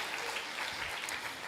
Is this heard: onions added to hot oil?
no